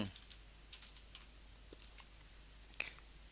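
Faint, sparse clicks of typing on a computer keyboard, a few scattered keystrokes over a low, quiet background hum.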